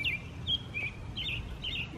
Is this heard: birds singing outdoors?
yes